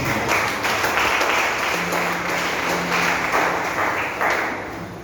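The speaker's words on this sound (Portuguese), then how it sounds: "Você que pode aplaudir o Senhor." A congregation clapping in praise at a Wednesday evening church service, a continuous wash of applause in a reverberant room with a faint sustained tone underneath, tapering off slightly at the close.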